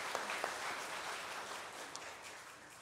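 A church congregation applauds, a soft, distant wash of many hands clapping that holds steady and slowly fades, with a few sharper individual claps standing out.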